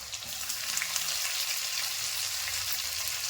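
Crushed garlic and shallots sauté in hot oil as the base for a lake-fish curry, giving a steady, close, bright sizzle that holds level throughout with faint stirring underneath and no voices.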